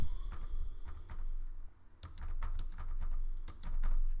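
Rapid keystrokes on a computer keyboard, typed in short bursts of clicks with brief pauses, close and clear over a low steady background hum.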